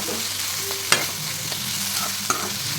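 Onions sautéing for a fish curry, stirred in a hot pan with a steady close sizzle and a few sharp scrapes of the spoon against the pan.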